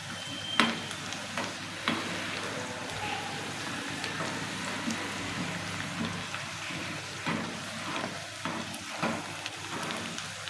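Spices for a masala khichdi tempering crackle and sizzle softly in hot oil, with a few sharper pops and the occasional scrape of stirring.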